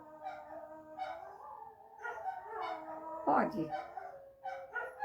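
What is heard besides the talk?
dog barking and howling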